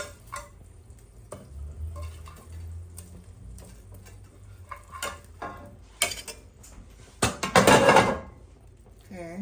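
Cooked meatballs fresh from the oven dropped into a pot, giving soft scattered clunks and a brief louder burst of clattering and sizzling near the end, close by with no talk.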